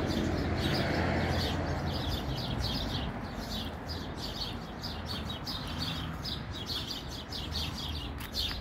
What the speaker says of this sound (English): the birds are just chirping away in my alder tree